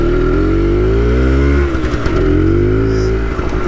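An X90 motorcycle pulls away in low first gear, its engine droning loud and close with a steady rising whine, then briefly easing and climbing again.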